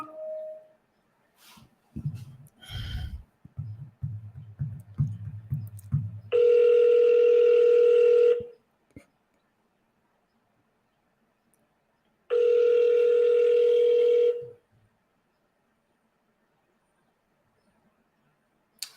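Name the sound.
telephone calling back, ringing unanswered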